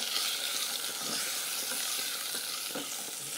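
Chopped tomatoes frying with garlic in olive oil in a pan, stirred with a spatula: a steady, close sizzle with soft scraping and a few faint clicks of the spatula throughout.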